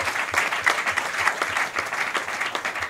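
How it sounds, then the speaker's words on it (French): An audience at a teachers' union meeting applauds two union officials, producing dense, steady clapping from many hands throughout, fairly loud and even, with no clear speech over it. "que nous puissions les applaudir"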